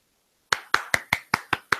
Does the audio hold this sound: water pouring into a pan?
no